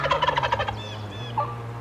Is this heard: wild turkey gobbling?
yes